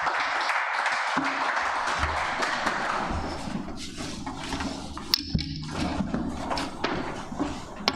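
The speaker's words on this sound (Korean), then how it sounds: "박수로 환영하도록 하겠습니다" Congregation applause welcoming a missionary during a church worship service, a sustained wash of clapping that tapers off into scattered claps, thumps and room noise, with no speech over it.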